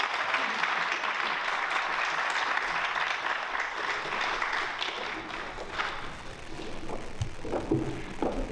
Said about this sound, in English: how about another round of applause for these great students?